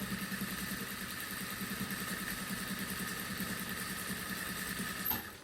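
A sewing machine runs a fast, steady stitching rhythm while sewing a waistband with a backstitch, its motor humming evenly for several seconds at low volume with no one speaking.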